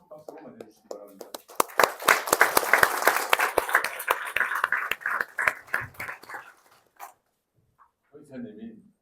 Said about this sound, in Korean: 나오실 때 큰 박수로 맞이해주시기 바랍니다